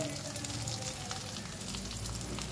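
Oil frying steadily in a pan for tomato chutney, about two tablespoons heated with dry red chillies, giving a continuous close sizzle and crackle with no talking.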